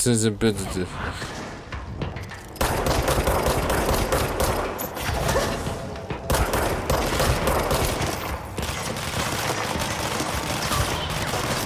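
Rapid bursts of gunfire from the video game Control, dense and loud for most of the stretch, with someone talking over the shooting.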